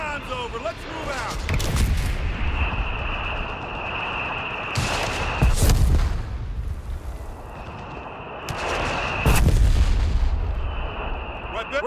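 In the video game Company of Heroes 3, mortar and artillery fire booms in several heavy bursts over a constant battlefield rumble, with soldier voices talking in between.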